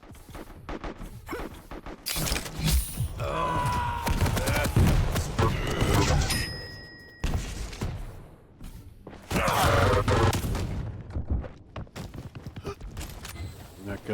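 A shotgun fires in a competitive video game match as loud, heavy blasts in clusters among crashes and thuds, with a short tonal beep partway through.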